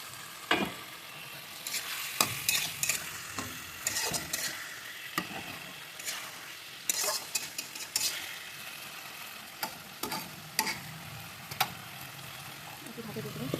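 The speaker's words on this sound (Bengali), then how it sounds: "এর মধ্যে ভাজা আমটা আমি দিয়ে দেবো।" Fried mango pieces tipped into a pan with spice paste and stirred, soft continuous sizzling broken by sharp spatula scrapes and clatters at uneven intervals, close but fairly quiet.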